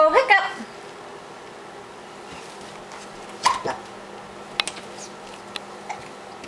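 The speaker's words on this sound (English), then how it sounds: "Uh-oh, do you have the hiccups?" A pet in a Halloween costume hiccups, with a few small, sharp, irregular hiccup-like bursts heard close and soft among light ticking noises, with brief voices at the start.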